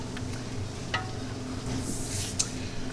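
A thickening cornmeal mixture is stirred steadily in a pot, a soft, continuous scraping and swishing with a couple of brief sharper clinks, fairly quiet and close, with no talking.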